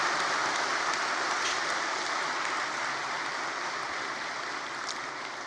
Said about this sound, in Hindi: आप सभी जोर से ताली बजा करके